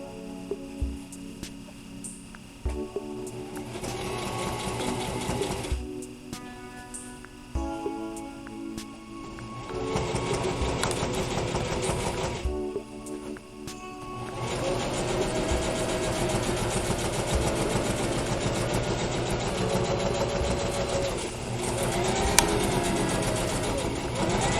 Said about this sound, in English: So now we're sewing the second edge of the vent.